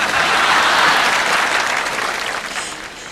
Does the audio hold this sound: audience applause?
yes